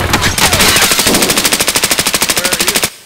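Rapid automatic gunfire in the video game Escape From Tarkov, a loud, close, steady burst of evenly spaced shots lasting nearly three seconds before cutting off abruptly.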